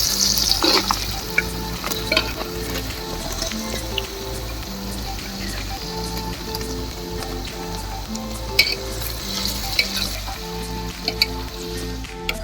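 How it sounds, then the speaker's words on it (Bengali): Cut mutton pieces frying in a pan with browned onions for Afghani Kabuli pulao, giving a steady close sizzle with stirring scrapes and occasional clinks throughout. "এইবারে কেটে রাখা মাংসগুলো দিয়ে নিচ্ছে"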